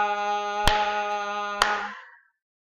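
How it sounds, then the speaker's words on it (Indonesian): Two sharp hand claps ring out over a sustained musical note in an elementary school music lesson, spaced about a second apart before the tone fades to silence. "Tepuk tangannya hanya sampai 3 saja."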